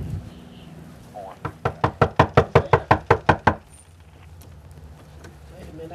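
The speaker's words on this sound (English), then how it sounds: "All right, I'm going to knock again." A door is knocked on during a sheriff's office patrol: a run of about eleven sharp, evenly spaced raps, loud and close, with low background murmur before and after.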